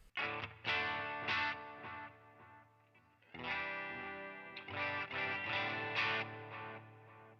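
Distorted electric guitar played through a delay pedal plays chords and notes with repeating echoes trailing after each attack, fading out in a brief gap before resuming.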